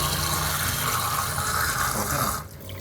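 Water runs steadily from a tap, drawing filtered water prepared for fish. There is a continuous rushing flow that cuts off abruptly near the end, leaving a quieter trickle.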